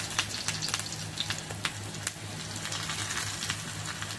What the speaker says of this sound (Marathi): कढीपत्ता तडका उडवला, मला तापलाय तेल.